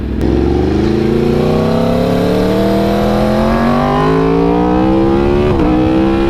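A motorcycle fitted with an SC Project exhaust accelerates hard and close, its loud engine note climbing steadily in pitch, dipping briefly at a gear change near the end, then pulling on, with no talking.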